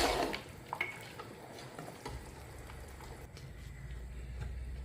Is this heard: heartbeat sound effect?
no